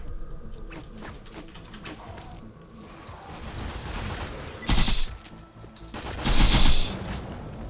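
Bursts of gunfire aimed at a Scorch in Borderlands 2, fired with a Dahl Sand Hawk, crackle in rapid volleys, two of them louder and sharper near the end, over a busy game background.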